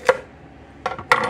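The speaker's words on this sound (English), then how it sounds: "split these lengthwise and then start chopping little pieces like that to go on the salad" A knife chops vegetables on a cutting board for a shrimp salad: three separate sharp knocks, the last two close together, with quiet pauses between and no talk.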